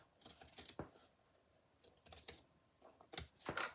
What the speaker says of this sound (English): I'm going to go ahead and cut that part off